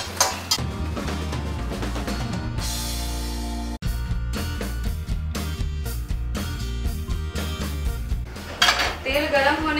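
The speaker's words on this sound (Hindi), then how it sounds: "मैं इसको उठा के प्लेट में रख दूंगी" Fried paneer lifted from a pan onto a plate in a home kitchen, with repeated metallic clinks and scrapes of a utensil against cookware, close and fairly loud, no talking.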